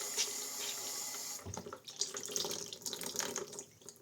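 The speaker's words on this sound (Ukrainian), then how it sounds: "Відкриваємо водичку." Water running from a kitchen or bathroom tap into a sink, a steady splashing rush that starts after a brief quiet and continues up close, with small clinks and shifts in the flow.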